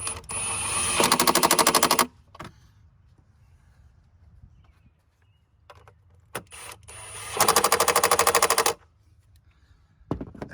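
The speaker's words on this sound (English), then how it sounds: "I'm just gonna cinch them down with the Milwaukee." A Milwaukee power tool cinches down two 10mm bolts while a catch can is fitted to a 2019+ Ram 1500. Two loud bursts of rapid hammering rattle, each about a second long, are split by a quiet pause.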